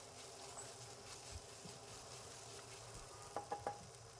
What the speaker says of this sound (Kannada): ಶುಂಠಿ ಬೆಳ್ಳುಳ್ಳಿ ಪೇಸ್ಟ್ ಹಸಿ ವಾಸನೆ ಹೋಗೋ ತನಕ ಎಣ್ಣೆಯಲ್ಲಿ ಫ್ರೈ ಮಾಡ್ಕೊಳ್ಳೋಣ.